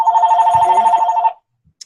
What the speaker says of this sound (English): Whoever's phone's ringing,